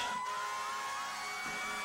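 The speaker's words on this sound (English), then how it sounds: "Ambulance from the Norfolk Bristol Ambulance Service" Ambulance from the Norfolk Bristol Ambulance Service sounding its siren in a public parade, a steady wailing tone rising and falling in a smooth sweep, faint and at a distance, with no voices.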